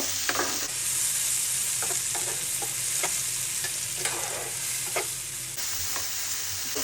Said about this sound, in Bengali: এখন এগুলো একটু ভেজে নিব